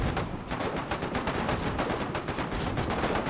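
Sustained machine-gun suppressing fire in the war game Foxhole during a siege at Pallantine Berm, a dense, continuous rattle of rapid shots at close range, loud and steady throughout with no pauses.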